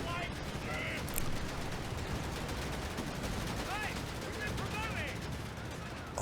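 Tank and infantry gunfire from a battle in the real-time strategy game Company of Heroes 3, with steady rattling small-arms fire, scattered louder shots and whistling effects. The fire is continuous at a moderate distance, and a voice is heard underneath.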